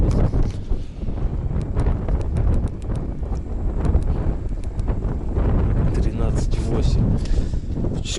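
Strong cold wind roars and buffets the microphone nonstop in Altai, Mongolia, with a voice talking over it and a few faint clicks in the background.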